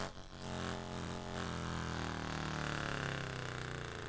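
A bike tire sample played as an instrument: a gritty, buzzing tonal drone with a harsh, square-wave, oscillator-like quality plays steadily and fairly quietly, with no talking.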